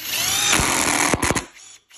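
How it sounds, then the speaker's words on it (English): Power drill fitted with a countersink bit recessing a screw hole near a door hinge during a split jamb door install, a loud close whirring run with brief stuttering bursts before it winds down and stops. "we're going to use a bit like this that basically recesses a little hole for the screw to go into"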